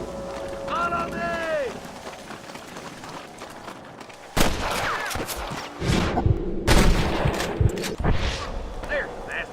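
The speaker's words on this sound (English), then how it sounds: "I can hear more gunshots." Gunfire in the Western video game Red Dead Redemption: sharp, loud bursts of shots in the second half, over game sounds, wind and speech.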